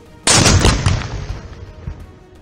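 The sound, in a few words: bomb explosions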